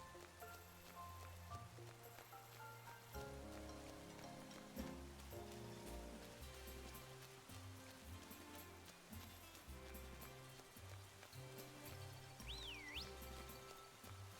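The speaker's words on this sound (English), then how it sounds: "It's still raining." Rain falls steadily in the video game Pokemon Scarlet, a soft continuous patter mixed under background music, faint and even throughout.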